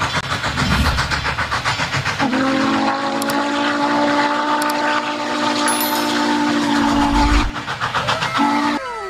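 Blue toy steam train sounding a long sustained whistle tone for several seconds, then a short second toot, over a chugging rhythmic background.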